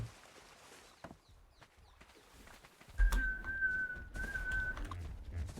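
A single sustained whistled note lasting nearly two seconds in ARK Survival Evolved on the Valguero map, fairly clear over faint ambient game sounds and scattered small noises, with no talking.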